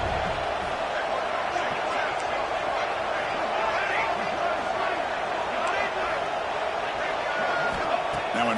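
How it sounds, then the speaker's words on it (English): Stadium crowd noise from an NCAA 26 college football video game during a conference championship, a steady roaring wash of many voices held at even loudness throughout, with no pauses or single standout sounds. "Listen to the crowd energy here in the early going."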